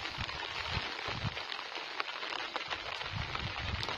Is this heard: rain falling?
yes